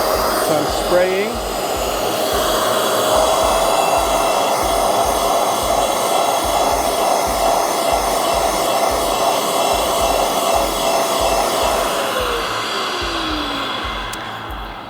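A Shark Carpet Xpert carpet cleaner runs steadily through its hose attachment, a loud continuous motor whine with rhythmic pulsing as it sprays and vacuums a carpet spot, then fades slightly at the end.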